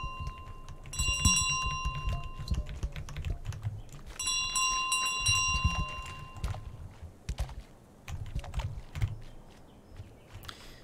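Bicycle bell in Untitled Goose Game rung in two bright, rapid trilling bursts over busy game clatter, footstep-like taps and low thumps.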